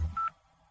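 A single short telephone keypad tone sounds as a phone number is dialed, a clean electronic beep lasting a fraction of a second after a low thump, then near silence.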